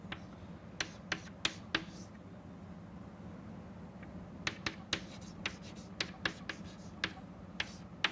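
Chalk or marker tapping and scratching on a board during a fluid-mechanics lecture, a series of sharp, faint strokes in two bursts with quiet room hum between them.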